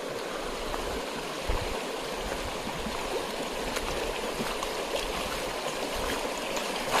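Stream water flows and trickles steadily and close by during a crossing in the forest near Udaipur, a continuous rushing wash with small splashes and no talk.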